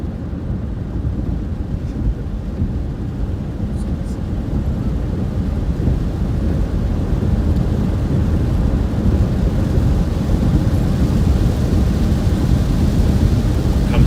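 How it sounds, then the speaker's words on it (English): Rain during a storm in Illinois, heard as a steady, dense wash of rainfall with wind rumble, loud and continuous throughout. "The rain again."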